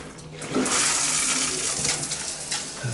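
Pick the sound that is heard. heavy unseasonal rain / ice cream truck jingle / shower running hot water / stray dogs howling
shower running hot water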